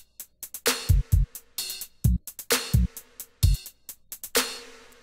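Short, punchy 808 sub-bass hits cut off abruptly when the notes are released, mixed with crisp hi-hat and snare-like percussion in a steady beat pattern, played alone.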